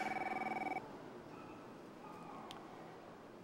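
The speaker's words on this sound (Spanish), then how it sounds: "Ay, nadie contesta el teléfono" A telephone bell rings with a fast trilling tone for under a second, then falls silent into quiet room ambience with no one speaking.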